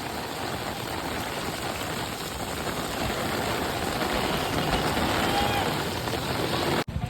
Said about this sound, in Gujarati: જો આમ કંઈ દેખાતું નથી એવો વરસાદ આવે